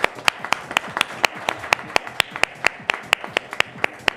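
An audience at a panel discussion on fleet buses claps loudly in a steady, fast rhythm, the sharp claps evenly spaced and continuous against a dense roomy wash of applause.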